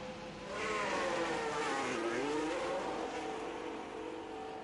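A Formula 1 race car engine from F1 Manager 22 revs high and climbs through its gears as the car speeds past, its whine rising and falling, loud and alone.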